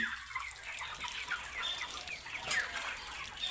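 Eight-day-old chickens on a poultry farm fed with rice bran cluck and peep faintly, with scattered high chirps over a quiet, steady background.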